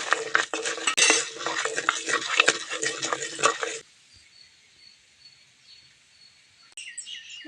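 Cumin and spices roasting in a pan for a drumstick-leaf (moringa) dosa, heard as busy metal scraping and stirring with sizzle for about four seconds, then a quiet stretch before a brief clink returns.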